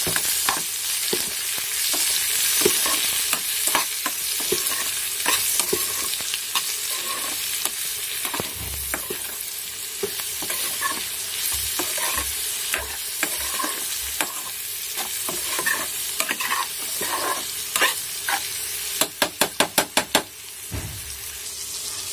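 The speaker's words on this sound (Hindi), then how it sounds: "अब इसमें डालेंगे हम नमक, और ये है अमचूर। फिर इसको चला लेंगे।" Star fruit with salt and amchur fries in a pan while it is stirred, a continuous loud sizzle broken by scraping stirs and ending in a quick run of sharp clicks, with no speech.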